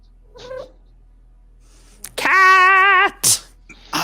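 A cat meows nearby: a short soft mew, then after a pause a loud, long drawn-out wavering meow followed by a brief yowl, with nothing else behind it.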